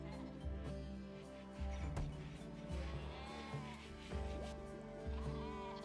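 Sheep bleating in a video game, several drawn-out wavering bleats repeating every second or so over a low rumble, fairly faint and close, with no talk.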